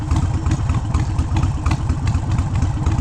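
A Harley-Davidson Sportster 883 fitted with a Hammer 1275 big-bore kit idles loud and close, with a steady lumpy throb and no pauses.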